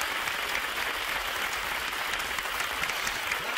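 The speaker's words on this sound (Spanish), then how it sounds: "Y un aplauso, porque es una bonita cantidad." A studio audience on the Spanish TV game show El tiempo es oro gives steady, even applause, a continuous hiss of many hands heard at moderate distance.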